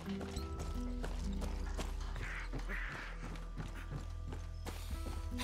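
Horses in the video game Far Cry 6, their hooves clip-clopping steadily over a bed of game ambience and creaking mechanisms, with an occasional faint whinny.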